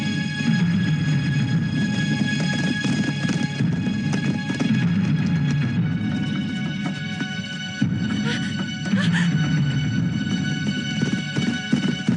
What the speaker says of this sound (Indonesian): Sepertinya kuda ini tidak dapat dikendalikan.